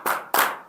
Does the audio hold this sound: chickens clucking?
no